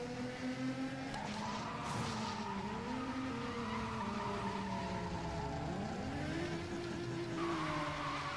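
Engine drone with long sliding tire squeals from a Need for Speed Most Wanted car, pitch bending up and down over several seconds, steady and loud with no voices.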